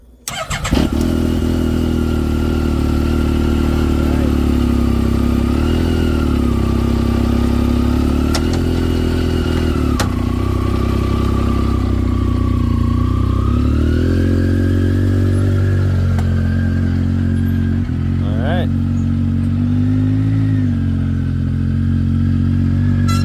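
A 2017 Yamaha YXZ1000R SS side-by-side, converted to a stick shift, starts and then idles loudly with a steady, close, rumbling engine note and small rev changes throughout.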